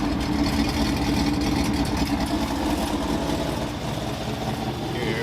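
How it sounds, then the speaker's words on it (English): A prerunner truck engine runs rough at a steady idle for several seconds, close and loud, with a lumpy, uneven throb under a hiss. "I got it started, and it's running rough"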